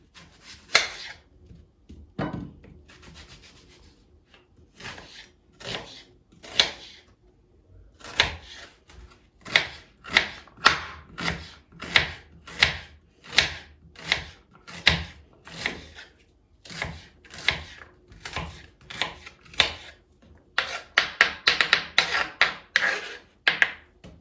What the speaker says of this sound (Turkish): Soğanlarımı doğrayacağım şimdi.